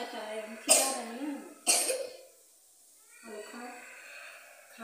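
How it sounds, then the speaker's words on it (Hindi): A child coughing indoors during a meal, two sharp loud coughs about a second apart followed by quieter throat sounds and a soft voice in the background. "खांसी आ रहा है"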